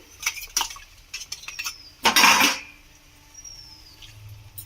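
A spoon stirs spice masala with hot water in a pan for a Bengali soybean and steamed egg curry, giving scattered metallic scrapes and clinks and one louder burst of scraping in the middle, close and with no talk.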